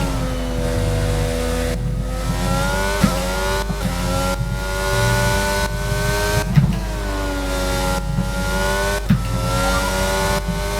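F1 car engine in the F1 22 game at Hungary, racing through a chicane: a loud, sustained high-pitched whine that rises and falls with rapid gear shifts and repeated downshifts and reaccelerations, with no talk.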